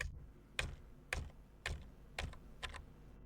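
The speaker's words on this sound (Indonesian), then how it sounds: "gunakan tombol tab pada keyboard Anda" Keys tapped on a computer keyboard while entering commands, with five or six separate crisp clicks spaced about half a second apart, close and fairly quiet.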